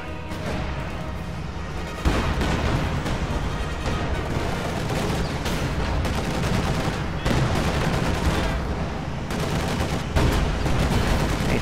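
Top gunner machine-gun fire in a video game match: loud, continuous rattling bursts pour out almost without pause, layered with booms and other battle noise.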